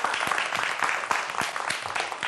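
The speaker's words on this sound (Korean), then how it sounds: "큰 박수 부탁드리겠습니다" An audience applauds after a television science lecture on conjecture in mathematics given by a mathematics education professor, with dense, continuous clapping throughout.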